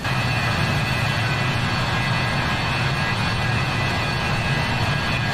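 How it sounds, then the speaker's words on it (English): Jet engines of a BAe 146 airliner in Microsoft Flight Simulator 2020, heard from an outside view as a loud, steady roar with a thin high whine running unbroken throughout. "The BAE146 engines have a pretty terrifying sound if you put it in outside view."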